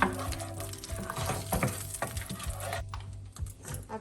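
Whole cardamom, cloves, a halved bay leaf and a cinnamon stick frying in hot oil in a pan, with a steady soft sizzle and occasional light scrapes of stirring, close and fairly quiet.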